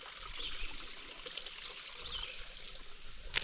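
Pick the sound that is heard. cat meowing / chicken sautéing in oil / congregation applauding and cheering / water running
water running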